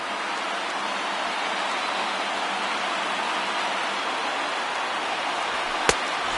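A stadium crowd of over 39,000 roars steadily in a PS4 baseball video game with the Reds down to their last strike, a dense, unbroken wash of noise with one sharp click near the end.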